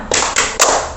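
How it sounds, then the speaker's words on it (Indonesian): A group in a counseling session doing the rhythmic "tepuk semangat" clap, three sharp, loud bursts of hand claps in quick succession, close and with no talk. "Kita tepuk ini dulu, tepuk semangat ya, supaya lebih semangat lagi"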